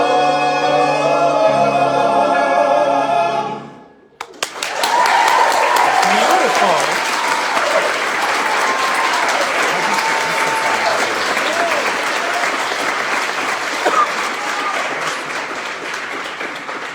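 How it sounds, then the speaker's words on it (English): Loud audience applause with some cheering fills a hall at the 2023 Serve Indiana Awards for Excellence ceremony, following the close of a sung performance, then sustains steadily as dense clapping. "So let's give another round of applause to the Indianapolis."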